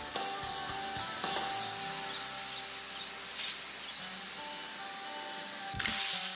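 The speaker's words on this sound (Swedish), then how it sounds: "Spola av terrassen med högtryckstvätt." A steady hissing spray runs almost continuously as a pressure washer blasts a wooden deck, with occasional taps and a louder burst near the end.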